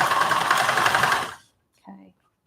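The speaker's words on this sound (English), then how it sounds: "Scott said he likes to listen to me sew because he says sometimes you just open it right up and it just takes off" A sewing machine running fast with a loud, rapid, buzzing whir close by, then cutting off abruptly, followed by a brief voice speaking.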